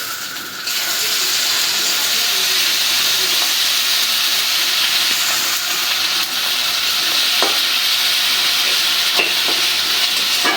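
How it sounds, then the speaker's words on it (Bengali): Ginger garlic paste fries in hot oil with a loud, dense, continuous sizzle that starts abruptly and holds steady, broken by a few light clinks of stirring. "আদা তেলের সাথে একটু ভাজা নিলাম"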